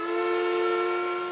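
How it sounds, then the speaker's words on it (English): A paper mill whistle in Corner Brook, Newfoundland, which marks the start and end of the workday, holds one steady, loud, harmonic-rich blast for the whole moment, with no voices. "You can set your clock by the mill whistle in Cornerbrook."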